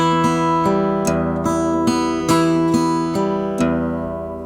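Acoustic guitar fingerpicking a first pattern for the traditional song The Trees They Do Grow High, in Martin Carthy's arrangement and in 12/8: plucked notes ring and overlap in a gentle, steady rolling rhythm, close and unaccompanied.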